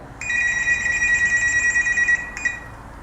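A telephone rings with a steady electronic bell tone lasting over two seconds, then a brief second burst, loud and close with no talking over it.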